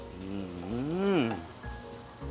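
Pickled mustard greens stir-fried in a hot pan hiss and sizzle steadily at close range while a drawn-out vocal sound rises and falls over the frying.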